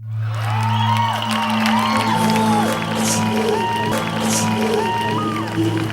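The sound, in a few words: audience applause and cheering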